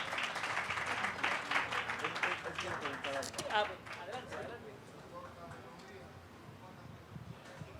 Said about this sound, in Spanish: Pido un aplauso muy grande para despedirlos.